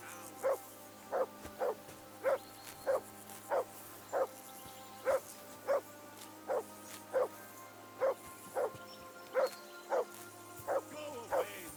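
A dog in the video game Kingdom Come: Deliverance II barks in a steady, evenly spaced series of about fifteen sharp woofs at moderate distance, repeating over a low background hum with no talking.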